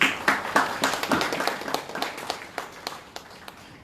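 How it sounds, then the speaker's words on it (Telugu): A congregation claps hands during a church worship service, with a brisk, fairly regular run of nearby claps that thin out and soften toward the end. "చప్పట్లు కొడతామండి."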